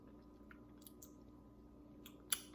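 Someone chews a birria taco dipped in sauce, close and quiet wet mouth sounds with a few soft bites and clicks, ending in a sharper crunch.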